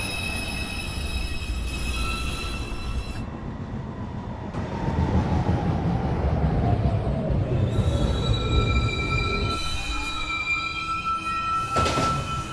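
An R142 New York subway train on the 1/2 line moves through the 215 Street station, its wheels squealing with rising and falling tones over a steady rumble, with brief chime-like tones near the start and end.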